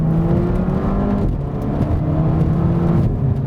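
Supercharged engine of a Volvo V60 Polestar revs hard and holds a steady, loud drone with rising and dipping pitch, heard close and continuous with no talk.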